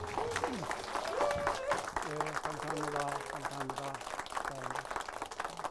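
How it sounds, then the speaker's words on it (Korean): Audience applause closes a humanities lecture by a stage actor at a neighborhood festival, clapping running steadily under a voice speaking over it. "다시 한번 선생님께 큰 박수"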